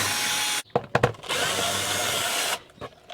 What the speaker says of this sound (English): where's my drill? We shall remove this controller.